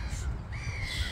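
Birds calling outdoors near water, a crow-like caw and a thin drawn-out call faintly over a steady background of ambient noise.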